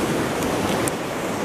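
Stormy sea waves on a Spanish beach roar in a loud, steady, unbroken wash of surf with no voices.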